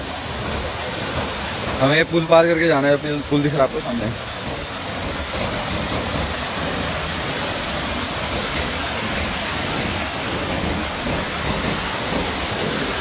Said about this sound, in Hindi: ये ऊपर से पानी आ रहा है झरने का